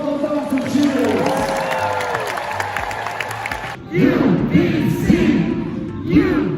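A big crowd at a university first-week gathering claps and cheers, a loud mass of voices and applause that builds after a short lull, with shouts and whoops rising above it.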